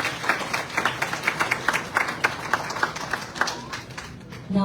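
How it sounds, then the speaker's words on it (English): Audience at an evening gathering with monks in Port Gibson, Mississippi, applauding the sheriff's department, a modest crowd giving sparse, distinct rhythmic claps that fade out near the end. "Everyone, please give them a big round of applause."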